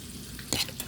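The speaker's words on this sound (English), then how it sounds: "While the pork chops are browning." Pork chops sizzle in a hot pan with a soft crackling hiss, broken by a couple of quick scraping stirs.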